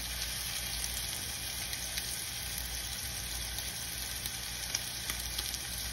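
Scallops frying in a hot pan give a steady, even sizzle that runs unbroken throughout, close and moderately loud, with no voices.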